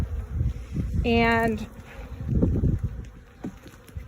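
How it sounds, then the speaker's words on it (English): Bees buzzing around an opened beehive with frames pulled out, a steady close hum underneath, plus a brief higher whine passing by, while a person talks over it. "look at all those bees. They're buzzing all around me."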